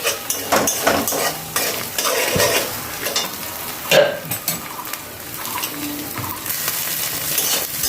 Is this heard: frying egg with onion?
yes